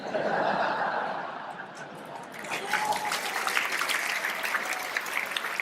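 A comedy-show audience laughs and chuckles, then breaks into sustained applause that swells and continues to the end.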